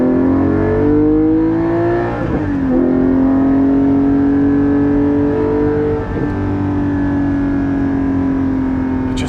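A Porsche 718 GT4's engine drones loud and close from inside the car as it drives around a turn. The pitch dips briefly as it shifts and eases through the bend, then holds steady with a smooth mechanical hum.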